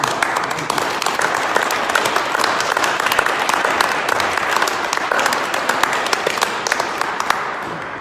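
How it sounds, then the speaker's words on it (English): A rally crowd at the Iowa State Capitol applauds steadily, many hands clapping in a dense, continuous wash that holds loud and even for about eight seconds. "Give him a big hand for applause"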